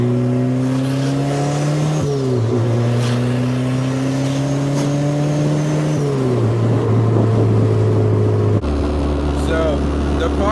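A hatchback car engine with a crackle/pop tune revs and holds at steady high revs, its pitch stepping down in stages before dropping to idle, loud and close throughout.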